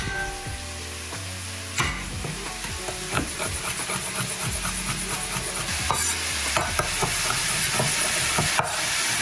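Pieces of steak deep frying in a deep fryer for crispy Mongolian steak, giving a continuous dense sizzle and bubbling with occasional knocks and clatters of utensils nearby, fairly loud and steady, with no voices.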